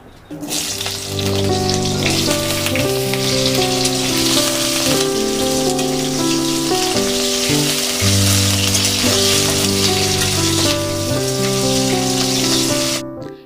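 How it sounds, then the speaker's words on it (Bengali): Potatoes frying in hot oil in a heated kadai give a steady, close sizzle for the whole clip. Melodic music plays underneath throughout. "এবার এর মধ্যে তেল দিয়ে দেবো আমরা প্রথমে আলুগুলো ভেজে নেব"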